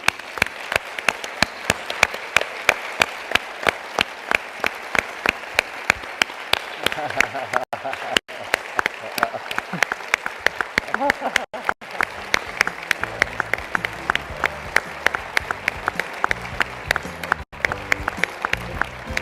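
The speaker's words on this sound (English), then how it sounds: "I would like all of us to applaud Alan" Sustained applause from a large audience at a conference opening ceremony, dense clapping that continues steadily with no pauses and no speech over it.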